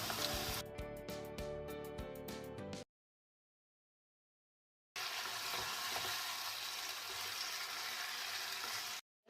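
Steady sizzling of precooked quail frying in a pan, broken by a silent gap of about two seconds before the frying resumes at a similar level.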